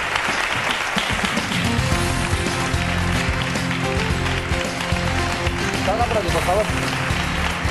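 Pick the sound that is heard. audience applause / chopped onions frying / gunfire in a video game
audience applause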